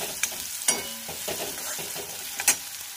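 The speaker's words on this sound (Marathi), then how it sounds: "मस्तपैकी असं फ्राय करून घेणार आहोत" Ingredients for upma frying in a pan over high heat, a steady close sizzle broken by a few sharp scrapes and taps of a spoon stirring.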